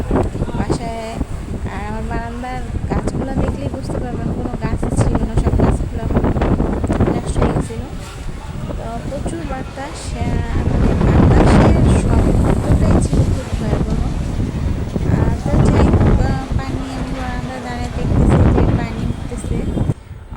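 Strong cyclone wind during Cyclone Remal roars and buffets the microphone in loud gusts across the whole stretch, with a person talking over it.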